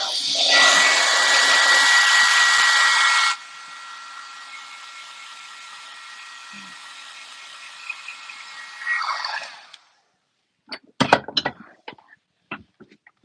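An embossing heat tool blows loudly and steadily onto a heat-embossed handmade card, its whir dropping to a softer hum before cutting off, followed by a few light taps and handling clicks.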